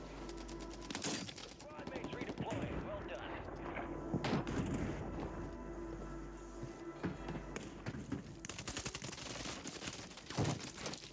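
Sniper and other gunfire in the Warzone 3 video game, a run of sharp shots and bursts scattered over steady battle noise, with louder clusters near the start and end; players talk over it.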